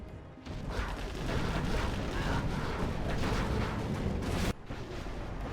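Battle explosions from the Generals Zero Hour strategy game form a dense, loud wash of booms and rumbling blasts for several seconds, then drop off abruptly into quieter game noise.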